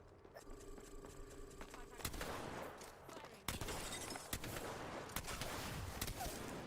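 Rapid automatic gunfire in the battle royale game Apex Legends, loud bursts of repeated shots with sharp cracks, followed by further volleys and impacts, with game sounds layered throughout.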